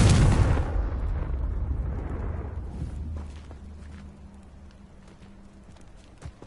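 Confringo explosive spell blast in the video game Hogwarts Legacy, a sharp loud burst followed by a long rumbling decay that fades over several seconds, with faint game sounds and a low hum afterward.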